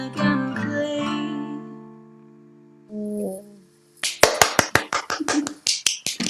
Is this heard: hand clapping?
yes